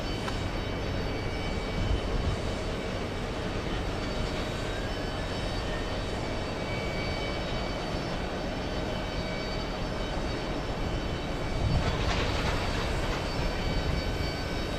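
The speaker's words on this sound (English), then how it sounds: "Lufthansa 404 on final approach." A Lufthansa airliner on final approach, a steady broad engine drone with sustained whining tones, moderately loud and without voices, a brief swell near the end.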